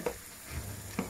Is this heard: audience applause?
no